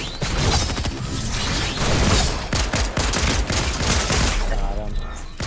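Rapid bursts of gunfire in a multiplayer shooter video game, dense and loud throughout, with mechanical weapon sounds and voices talking over it.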